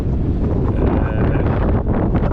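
Steady, gusty wind buffets the microphone across an open field during spring ploughing, a dense low roar that runs unbroken and close with no voices.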